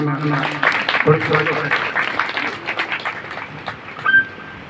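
An audience at a Hindu spiritual gathering claps to honour a revered guru, a busy patter of hands running beneath a voice and thinning toward the end.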